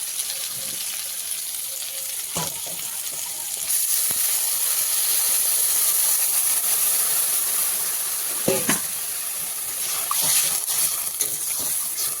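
Water poured into a pan of taro curry that had been fried with spices until the oil separated, producing a loud, steady steam hiss and sizzle that swells partway through, with a few soft clinks.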